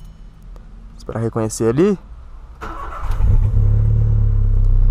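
A car engine cranks and catches after a short spoken phrase, then settles into a low, loud idle that swells slightly as it is revved, close by and continuous to the end.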